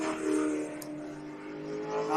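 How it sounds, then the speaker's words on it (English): A Ford XY Falcon race car making roughly 500 to 600 horsepower accelerates along the track at a WA Sporting Car Club championship round, its engine a loud, swelling roar heard at moderate distance with no talk over it. "Now he applies probably 500 to 600 horsepower out of that XY Falcon and blasts"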